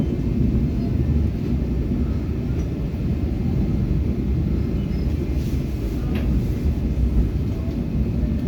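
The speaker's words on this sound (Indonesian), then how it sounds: "Kereta api Brawijaya berhenti dan tiba di stasiun Blitar." Low rumbling drone of the Brawijaya long-distance train, an old executive service, slowing and pulling into Blitar station, steady and fairly loud with faint clanks and squeals near the end; no talking.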